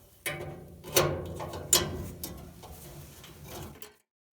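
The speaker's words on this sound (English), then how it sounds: "Now we're going to put the flame sensor back on." Flame sensor being refitted onto a gas dryer: a few separate clicks and light metallic handling knocks close by, in a steady quiet rhythm, with no talking.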